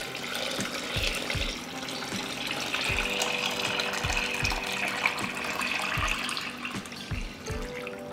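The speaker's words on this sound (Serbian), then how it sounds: "U šerpu ću naliti vodu do visine poklopca." Tap water runs steadily into a large pot lined with a cloth and holding glass jars for pasteurising, with low rhythmic thumps and a filling tone under the continuous flow.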